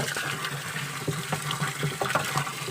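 Water runs steadily from a tap while a fertilizer solution is mixed for drip irrigation, a continuous splashing flow with small irregular bursts, close and fairly loud, no voices.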